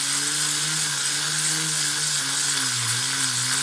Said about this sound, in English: It just takes way longer to sand than balsa wood does.